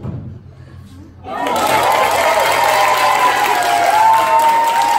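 A cabaret magic show audience bursts into loud, sustained applause and cheering, many hands clapping at once with whoops layered over a constant low hum.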